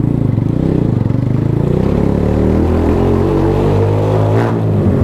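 A Keeway CR152 cafe racer motorcycle engine revs loud and close, its rough, clattering single-cylinder note climbing steadily in pitch through one long throttle pull.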